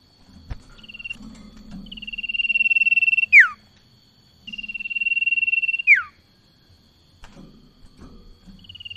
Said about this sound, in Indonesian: burung cipau ini sahabat ya, karena suaranya sendiri memang sangat merdu